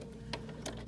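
A sewing machine stitches a quilt binding near a corner, giving a brief low mechanical hum broken by a few quick, close needle clicks at an uneven pace.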